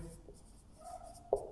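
A short stroke of writing on a board during a class 10 lecture on ray diagrams for mirrors, a faint scratch ending in a sharper tap, quiet and close, with no speech.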